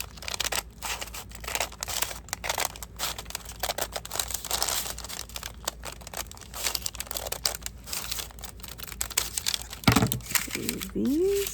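Scissors cut through paper for a handmade journal cover, giving steady crinkling and snipping rustles throughout, with brief sliding squeaks near the end.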